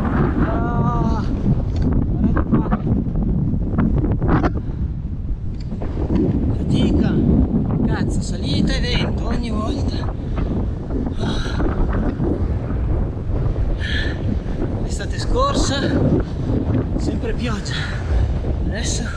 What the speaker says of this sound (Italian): Sempre vento, quarto giorno su 11 di vento, incredibile, è forte, sentite che roba